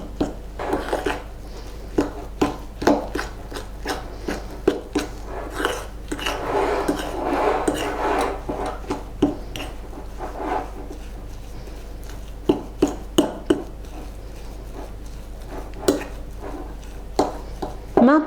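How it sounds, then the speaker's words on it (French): A spoon scrapes and rubs against a bowl while eggs are worked into a ground almond and powdered sugar mixture for a galette des rois, giving uneven rasping strokes with sharp clinks scattered throughout. "je vais encore mélanger avec mes œufs et ma préparation à base d'amandes en poudre et de sucre en poudre"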